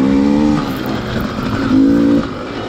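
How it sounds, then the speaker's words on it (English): A dirt bike engine hangs at a high idle on an enduro trail loop, its air-fuel screw set for hot temperatures. The hum is steady and close, with a brief swell toward the end before settling back. "Excuse my hanging idle on my bike"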